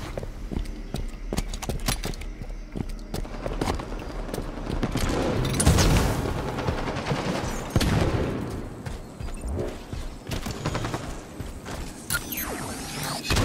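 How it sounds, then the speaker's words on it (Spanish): Bursts of gunfire in Halo 5: Guardians on the Overgrowth map, loud rapid volleys and booms mixed with game noise, with no voices. "Disparos"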